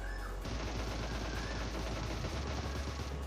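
Rapid automatic gunfire rattles continuously in the video game PUBG, loud and sustained for a few seconds with a low rumbling undertone and no voices.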